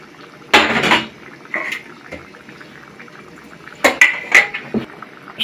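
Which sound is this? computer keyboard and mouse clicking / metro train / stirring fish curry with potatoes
stirring fish curry with potatoes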